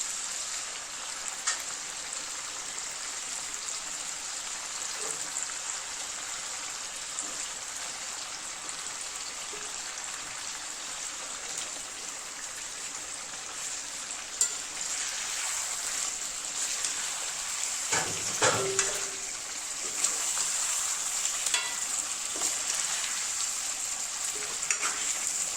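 Half-fried chicken leg pieces sizzle steadily in a pan of Khandesi chicken gravy, a constant close frying hiss with occasional stirring scrapes, no voices.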